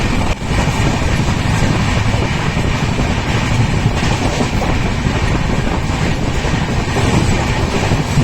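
A loud, steady rumble of a train at Vaibhavwadi railway station with a continuous rattling clatter throughout and no voices.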